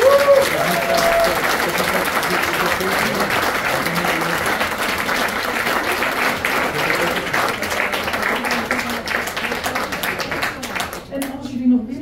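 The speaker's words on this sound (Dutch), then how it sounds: "Een applaus." Sustained, lively clapping from a dinner-show audience at a Christmas drag Cinderella performance carries on for about twelve seconds, with a voice heard over it at the start and near the end as it dies away.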